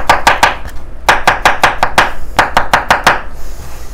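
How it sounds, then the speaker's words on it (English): A knife slices mushrooms on a cutting board in crisp, rapid chops, loud and close, in quick bursts with short pauses between runs of cuts. "Just showing you how I'm slicing them up"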